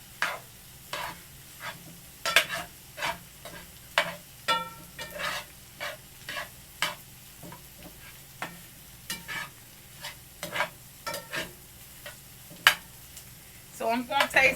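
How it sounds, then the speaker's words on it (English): Egg roll filling is stirred and chopped in a sizzling pan with a steel spatula, giving sharp metallic scrapes and taps in an irregular rhythm over a low, steady frying hiss, with no talk. "we gave it a rough chop in the pan with this steel spatula, we're going to just incorporate that all together"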